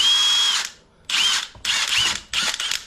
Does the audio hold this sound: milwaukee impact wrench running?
yes